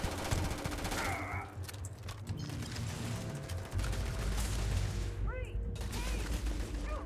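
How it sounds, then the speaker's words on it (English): Gunfire in the space video game Starfield, bursts of rapid shots mixed with mechanical clanks and game music, moderately loud and continuous with occasional speech-like sounds in the mix. "the gunfire doesn't sound punchy enough to me"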